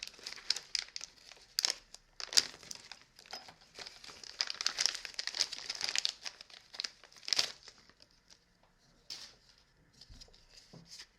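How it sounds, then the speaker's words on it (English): Someone tearing open packaging that holds a card, with crinkly rustling and sharp ripping bursts up close and no voices. "Let's try to rip the packaging and see what this card contains."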